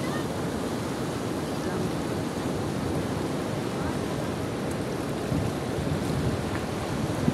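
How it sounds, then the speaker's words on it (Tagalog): Loud, continuous crashing surf after Typhoon Auring at high tide, heavy waves rolling in close by, a steady broadband roar with wind buffeting the microphone. "Lakas ng alon."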